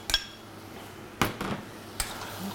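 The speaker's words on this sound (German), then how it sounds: "Ein kleines bisschen umrühren." Spoon clinking against a pot while rhubarb and strawberries are stirred for compote, three bright metallic knocks spread over a couple of seconds with soft scraping between them.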